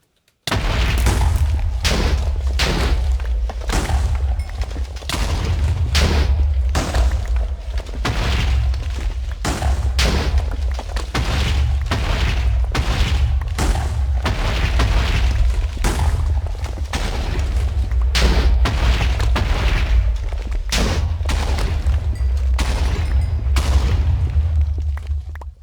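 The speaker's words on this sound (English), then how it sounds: "that explosion was a pretty nice way to come back" Repeated booming blasts in a survival video game, dense rumbling explosions rolling one after another at high volume over a steady low roar, with no talk.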